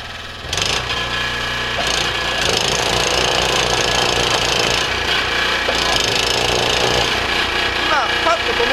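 A Yamaha YT-660EDJ snow blower runs steadily and loudly with a close, constant engine drone and churning auger as it throws wet snow through its jet chute, while someone talks over it.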